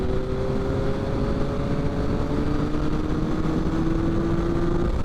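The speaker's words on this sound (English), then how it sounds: "God, this bike's 5th gear pulls harder than my old 4th gear." A 2022 Yamaha XSR900 motorcycle accelerates steadily in 5th gear, its engine note rising slowly and continuously under a constant rush of wind noise.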